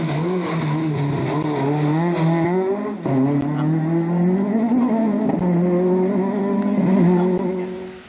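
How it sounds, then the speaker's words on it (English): A powerful two-wheel-drive Ford Escort rally car on a seaside promenade stage holds a loud, sustained engine note that rises and falls as it shifts and revs, with a brief dip and tyre noise, close by and without speech. "Hard work, a very powerful escort with not a lot of grip on the promenade."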